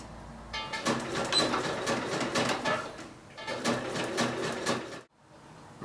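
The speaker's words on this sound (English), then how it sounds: "So catch the zigzag stitch as much as you can in this fabric just over the edge" A sewing machine runs a zigzag stitch over the edge of a trouser front pocket, whirring fast and close in two long runs separated by a short pause, then stops.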